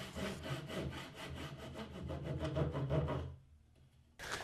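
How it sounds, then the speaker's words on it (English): A handsaw cuts wooden tenons to form haunches for a classic workbench frame, giving steady rhythmic rasping strokes that run close and loud for about three seconds before stopping, then a brief resumption at the end. "this is a simple job with a handsaw"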